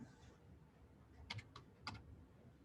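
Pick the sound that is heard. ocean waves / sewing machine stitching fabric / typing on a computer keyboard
typing on a computer keyboard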